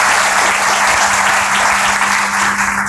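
Loud, sustained applause from an audience at a Persona Institute welcome event, dense steady clapping filling the whole stretch with a faint steady hum underneath.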